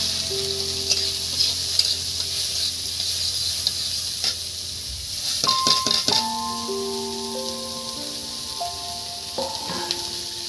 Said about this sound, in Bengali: এবার এর মধ্যে দিয়ে দিচ্ছি বন্ধুরা কুচি কুচি করা পেঁয়াজ।